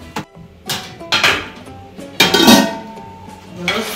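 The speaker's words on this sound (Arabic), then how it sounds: "انا هدخل الوحش ده الفرن" Pan of trotters slid into a home oven, a series of loud metallic clanks and scrapes of cookware against racks, spaced irregularly with brief quiet gaps.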